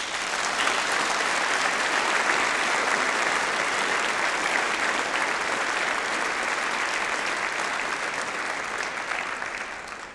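Sustained applause from a graduation ceremony audience at the University of Leicester, a dense, even wash of clapping that holds steady for ten seconds before easing slightly at the end.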